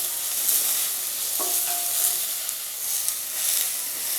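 Green chilli and tomato sautéing in a pan for a green peas curry, a steady hissing sizzle with a brief clink of a utensil partway through.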